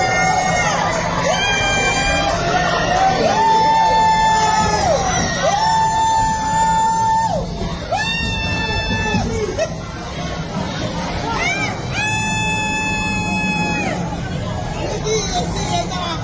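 A crowd at 6ix9ine's arrest cheers and yells loudly and continuously, with repeated sustained whoops rising and falling over general crowd babble throughout.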